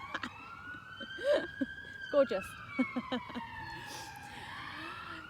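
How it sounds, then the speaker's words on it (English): A siren wails steadily in the background outdoors in Wells, Somerset, with a long rising and falling tone running under close, playful speech to a young dog. "So we have a siren in the background."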